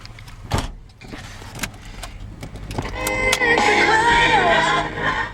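A 1972 Plymouth Roadrunner with the GTX option, all original with matching numbers, gives a few scattered clicks and knocks, then a steady engine and road drone with a rising whine as it drives off.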